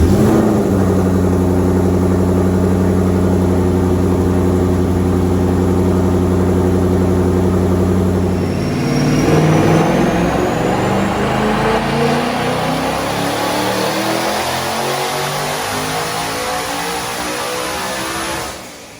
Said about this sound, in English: now it's time to fire it up and see if it works